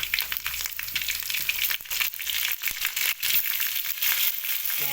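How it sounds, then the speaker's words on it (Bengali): Ginger garlic paste frying with browned onions for chicken curry, a loud, dense crackling sizzle with rough stirring and scraping throughout, no voices. "এবার আদা রসুনের পেস্ট দেওয়া হচ্ছে।"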